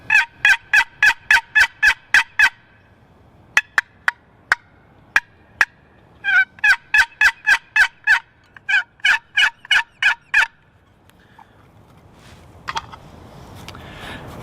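A wooden turkey box call is worked by hand, rasping out rapid series of loud, sharp yelps and clucks in bursts of six to eight notes with short pauses between, close to the microphone, no talking.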